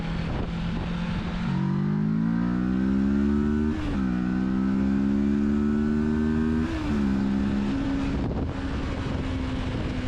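A Kawasaki Versys 650 motorcycle engine revs up steadily in pitch, dropping briefly at each gear change before climbing again, loud and close with wind rushing past.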